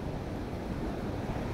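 Water flows steadily near where crab traps are being set, a continuous close rushing wash with some wind buffeting the microphone.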